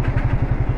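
A motorbike engine idles steadily up close in a narrow Kolkata metro lane, a low, even throbbing pulse with a slight rattle, heard alone without talk.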